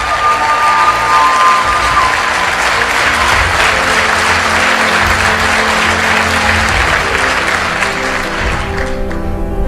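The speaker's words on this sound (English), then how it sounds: "Give yourselves a round of applause." Loud, close audience applause with cheering and scattered shouts from a large crowd at a motivational talk, sustained dense clapping that tapers off near the end.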